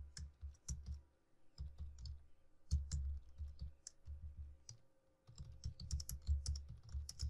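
A computer keyboard clicks in short bursts while a database select query is typed in, with rapid key presses in clustered runs and brief pauses between them, close and moderately loud.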